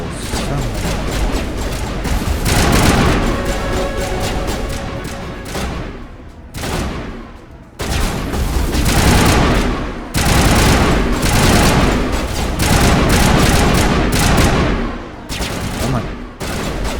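Rapid bursts of gunfire from the sci-fi shooter video game Mass Effect, loud and dense, with sustained automatic fire broken by short gaps and someone talking over parts of it.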